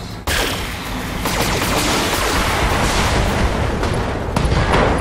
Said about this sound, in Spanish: Esa explosión de munición letal, muy muy dura.